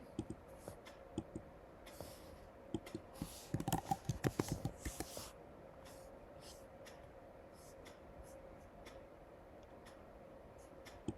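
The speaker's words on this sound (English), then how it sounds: "Let's go to the Kingdom Era and type in David." A computer keyboard being typed on: faint, scattered key clicks that cluster into a brief quicker burst midway through, then thin out over a quiet background.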